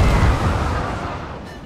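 A heavy cannon blast in the pirate game Sea of Thieves rolls out as a broad, booming roar that decays steadily over under two seconds, with no voices over it.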